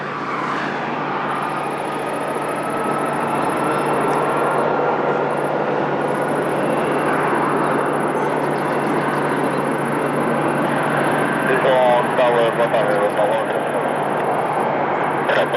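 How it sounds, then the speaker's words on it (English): Airliner taking off at Lisbon Airport, a broad engine roar that builds and holds for the whole stretch, steady and fairly loud, with a thin high tone running above it. "It's going to be our last takeoff."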